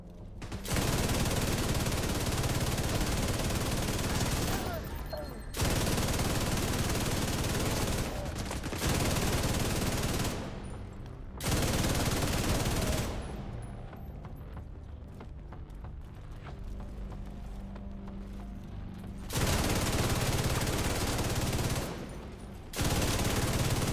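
LMG fire in The Division 2, long sustained bursts of rapid automatic gunfire broken by short pauses and a longer reload gap with clicking handling sounds, loud and close.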